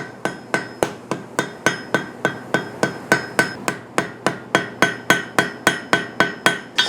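Hammer blows on hot steel during a light forge weld on a trivet: about twenty-four sharp, ringing strikes in a steady, even rhythm, loud and close, each decaying quickly, with no talking.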